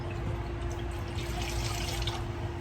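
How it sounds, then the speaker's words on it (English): Cloth rinsed out under running water, a steady, close splashing flow of tap water that continues evenly with no talk. "I'm gonna rinse it out."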